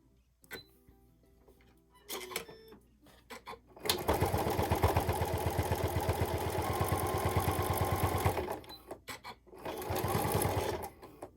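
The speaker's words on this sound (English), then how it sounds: "then you want to just stitch right across the end 1/4 inch down from the top" A sewing machine stitches across the end of a small felt needle book, running in short bursts and then one long, steady rattling run of rapid needle strokes, close up and loud with no talking.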